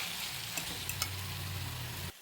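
A pan of bottle gourd curry with green chillies, coriander and a little sugar sizzles steadily while a spoon stirs it, with a few brief clinks. The sound cuts off abruptly near the end.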